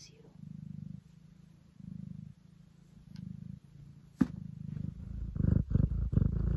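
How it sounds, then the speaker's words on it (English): A house cat purrs close by in a steady rhythmic rumble, each breath cycle rising and falling in clear pulses, growing louder and rougher toward the end, with no talking over it. "Do you see that cat in the camera?"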